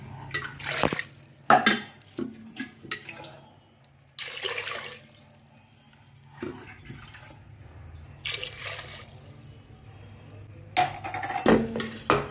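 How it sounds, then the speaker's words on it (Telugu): Water is poured into a pressure cooker over halved potatoes in several splashing bursts separated by pauses, with occasional light clatter of the pot. "ఇలా ముక్కలు మునిగే వరకు వాటర్ పోసుకొని"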